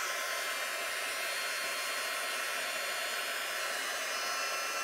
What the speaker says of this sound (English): So we'll just turn the heat gun on